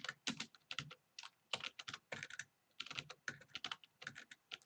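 Typing on a computer keyboard: quick, fairly faint clusters of key clicks in irregular bursts with short pauses between them, no voice.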